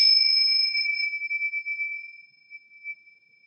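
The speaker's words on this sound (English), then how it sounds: "allow the gentle vibration of the chimes to slowly reawaken you back to your body" Chimes are struck once at the close of a gentle yoga practice, leaving a pure, clear ringing tone that fades slowly over a few seconds with nothing else heard.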